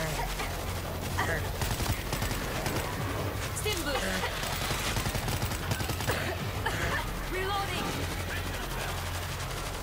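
Rapid bursts of gunfire crackle continuously, mixed with voices talking over the shooting.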